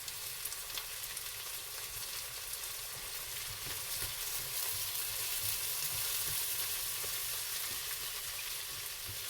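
Sliced potatoes with leftover Christmas ham fry for Spanish poor man's potatoes in a soft, even sizzle that stays steady and fairly quiet throughout.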